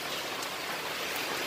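Steady rain pours down outdoors where a small multipurpose three-wheeled vehicle is being built, a dense even hiss filling the whole moment with no voices.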